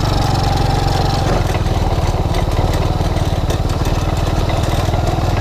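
A TaoTao ATA 135D ATV engine with a sticking throttle runs close and loud, a steady rapid chugging idle that holds unchanged throughout with no talking.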